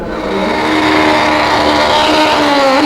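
A Prostar drag racing motorcycle at a 2002 AMA championship, carbureted engine screaming at high revs through a run, very loud and sustained, pitch rising slightly, no talk.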